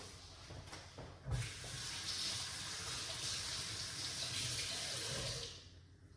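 An avocado seed is rinsed under a running kitchen tap, giving a steady close-up gush of water that lasts about five seconds before cutting off.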